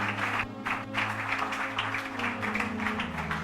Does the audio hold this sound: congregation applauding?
yes